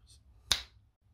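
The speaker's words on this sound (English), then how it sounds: "I'm going to go ahead and snap my fingers." One crisp finger snap rings out close and clear in an otherwise quiet room, with a brief faint rustle before it and a short decaying tail after.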